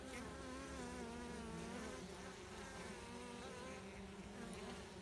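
Honey bees hum and buzz steadily around a hive entrance, a dense, continuous drone of many wings at close range with no voices.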